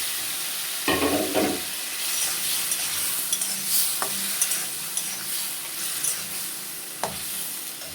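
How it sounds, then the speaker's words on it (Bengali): Potatoes sauté in hot oil for a rohu fish curry, a continuous bright sizzle with a few sharp spoon scrapes and clinks against the pan, close and without voices. "আলু কষানো হয়ে গেছে"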